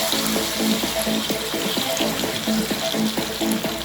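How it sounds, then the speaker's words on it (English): Water runs from a tap into a pot of chicken feet stew, a loud steady gush with a bubbling, rising tone as the vessel fills, continuous and close with no voices. "I'm adding the water."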